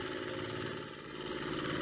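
A tractor engine runs continuously at a steady idle, a low, even droning rumble with slight vibration and no talking.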